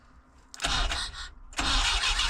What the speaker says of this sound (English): I'll have to start it by bridging the wires manually